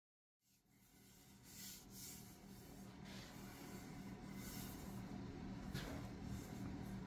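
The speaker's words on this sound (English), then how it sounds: "when I'm using this sander" A power sander starts up and runs steadily while shaping a wooden axe handle, a continuous buzzing rasp with slight rhythmic swells, fairly quiet and with no voices.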